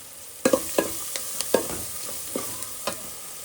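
Puffed rice (mandakki) is stirred and roasted dry in a pan, with a quiet scraping base broken by a handful of sharp irregular clicks and rattles as the spoon moves through the grains.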